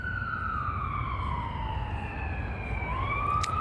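An emergency vehicle siren wails in a slow descending then rising sweep, moderately distant, over a constant low rumble of traffic.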